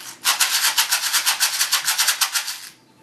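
A samba shaker box gripped tightly and shaken in a fast, even rhythm gives about twenty crisp, tight rattling pulses close up, loud and alone, then stops abruptly.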